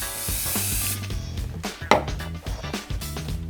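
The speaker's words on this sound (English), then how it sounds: "I will spray this regular box on one side." Anti-static liquid sprayed onto one side of a regular box: a run of short, close hissing spray bursts with brief pauses between them.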